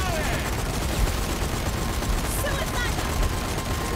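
Sustained gunfire in the video game Zombie Army 4: Dead War, a dense steady barrage of shots with game noise and a player's voice underneath.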